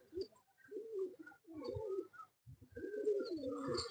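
Several pigeons in a home loft coo in low, rolling bursts, close by, with soft pauses between phrases and faint chirps layered on top.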